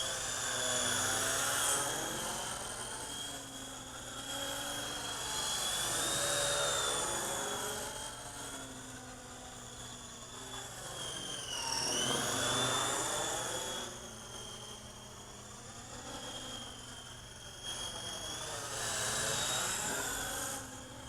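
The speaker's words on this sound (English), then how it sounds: "I do still like hearing that sound of the blades though on this." A FeiLun FX070C RC helicopter whines nearby as its spinning blades swell and dip in pitch and loudness over about twenty seconds, a steady buzzing hum with no talk.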